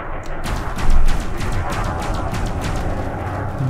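Ships firing weapons in the video game Elite Dangerous, with a rapid, regular series of energy-weapon bursts pulsing over a dense, roaring engine and space-combat background throughout.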